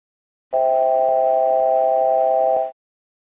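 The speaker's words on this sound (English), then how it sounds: "The alert will also sound when you are deviating from your selected altitude with more than 250 feet." A single steady electronic tone from an ATR aircraft's altitude alert, sounding when deviating more than 250 feet from the selected altitude, lasts about two seconds, clean and continuous, then cuts off into silence.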